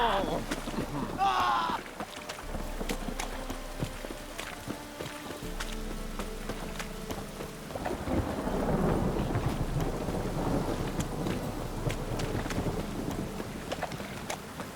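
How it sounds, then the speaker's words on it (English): A thunderstorm in The Witcher 3 video game, with steady rain and wind noise, deep rolling rumbles of thunder and occasional crackles and footsteps, continuous throughout. "A storm, damn it."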